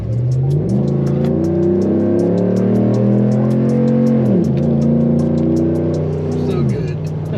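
A 2011 Ram truck with a 5.7 Hemi and D-Nasty special exhaust rumbles at idle and revs up twice, a deep loud drone rising and falling, close by, with people talking over it.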